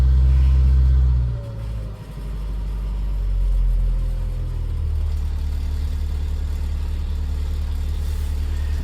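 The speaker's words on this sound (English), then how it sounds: "That's a sound I've been longing to hear for a few weeks now. The mighty A series." An Austin Allegro's A-series engine catches and settles into a steady, loud idle, a deep close rumble that dips briefly after starting and then holds even.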